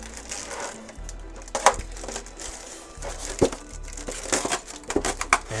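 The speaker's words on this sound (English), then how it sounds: "oh, the foam sounds horrible." Packing foam dragged and squeaked out of a box while unboxing an Eachine Mini Mustang P-51D model plane, a run of close crinkling, creaking rubs and scrapes with sharper bursts, over a low steady hum.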